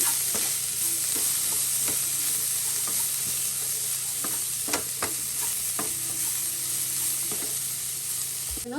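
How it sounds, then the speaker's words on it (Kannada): Gorikayi (cluster bean) palya is stirred in a pan over a steady sizzle, with rhythmic spatula scrapes and clicks against the pan throughout. The sound is close and even, with no voices. "ಈಗ ಇದನ್ನೆಲ್ಲ ಬೆರೆಸ್ಕೊಳ್ಳೋಣ"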